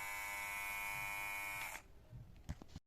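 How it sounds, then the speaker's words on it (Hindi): The nose trimmer attachment of a Philips MG7707/15 body groomer buzzes steadily and up close for under two seconds before shutting off, followed by a few soft handling clicks and knocks. "ये है नोज ट्रिमर्स की आवाज़, आप सुन सकते हैं।"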